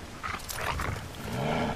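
A dog in the Resident Evil 6 video game, set in a cemetery, gives rough growls and bark-like sounds over noisy game audio at a moderate level.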